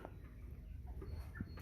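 American Bresse rooster giving a few soft, low clucks, faint and intermittent against a quiet farmyard background.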